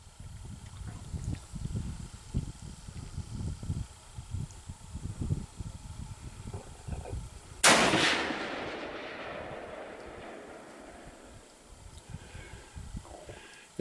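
A single loud shot from a Savage 99 rifle in .308 cracks sharply at mid-clip and rolls off in a long echoing tail, following several seconds of quiet outdoor rustling and movement.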